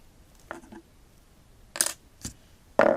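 Scissors snip through crochet yarn at the end of a beanie, giving a few short, crisp cuts spaced apart, the last one loudest and close by.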